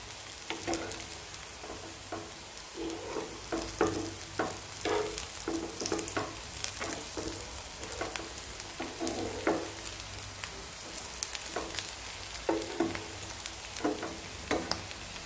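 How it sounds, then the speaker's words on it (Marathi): Potato tikki patties frying in oil for ragda pattice, a constant sizzle broken by repeated sharp scraping and clinking strokes of a spatula at irregular intervals, close and clear with no talking. "यामध्ये ही टिक्की जी आहे फ्राय करून घ्यायची आहे तेलामध्ये."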